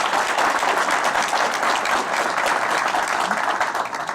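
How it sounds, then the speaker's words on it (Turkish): A crowd of spectators in Midyat applauds at a natural gas groundbreaking ceremony, dense, loud, continuous clapping that holds steady for several seconds before easing slightly. "Kendisine şöyle yürekten bir alkış rica ediyorum."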